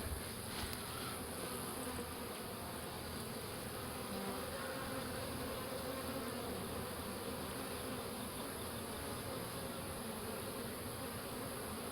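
Swarm of honey bees being hived, a dense, steady buzzing drone that stays continuous and fairly loud throughout, with no voices.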